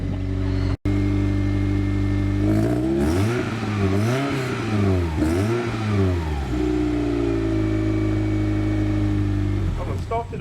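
Toyota MR2 engine with a new exhaust idling steadily, then revving in several rising and falling bursts before settling back to a loud, close idle; a voice speaks over it.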